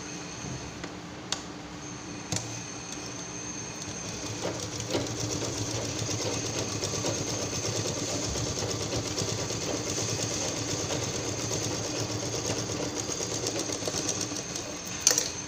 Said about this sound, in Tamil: இப்போது அடிபாகத்தில் ஒரு தையல்